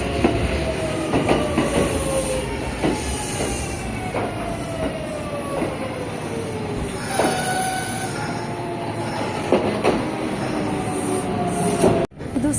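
Train pulling into a station in Japan on a hot summer day, with long squealing wheel tones sliding in pitch and rumbling rail noise throughout, loud and close, with no talk.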